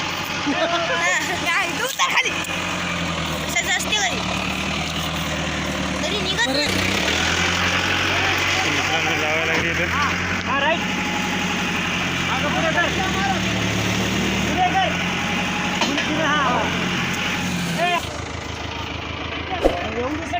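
A heavy tractor engine rumbles steadily throughout, idling nearby in sugarcane country, while several people talk loudly over it.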